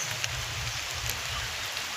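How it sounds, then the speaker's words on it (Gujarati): Steady rain falls outdoors, an even, close hiss of drops with no break and no voices. "वरसाद पड़ी रहे छे जो भाई"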